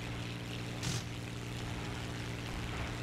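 Propeller aircraft engine in the War Thunder video game, a steady droning hum with a brief louder swell near the start, continuous and unbroken, no voices.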